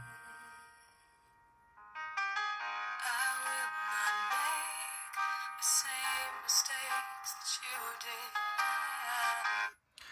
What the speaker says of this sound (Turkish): İçerisine müzik yükleyip şöyle gösterelim.